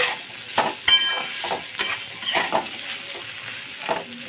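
A metal spatula stirs spicy raw banana curry in a pan, giving repeated scraping strokes over a soft sizzle, close and fairly loud.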